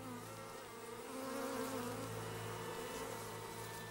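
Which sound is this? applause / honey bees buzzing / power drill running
honey bees buzzing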